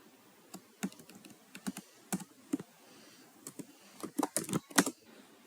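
Computer keyboard typing while Python code is written: irregular bursts of crisp key clicks, close and moderately quiet, with clusters of faster keystrokes toward the end and no talking.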